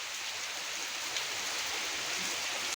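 Heavy morning rain in a rural village, a steady, even hiss of downpour with no voices, ending abruptly.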